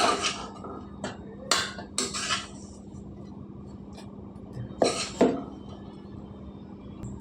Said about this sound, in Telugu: మిక్సీ జార్లోకి వేసుకుందాం అన్నీ